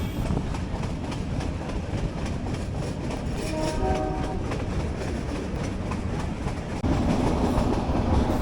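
Meter-gauge passenger train running from Junagadh toward Sasan Gir, heard from inside the last coach: a continuous loud rumble with a rattling clickety-clack of the wheels and a brief faint tonal whine midway, no talk.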